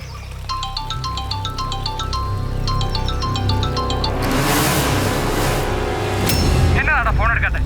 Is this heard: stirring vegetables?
no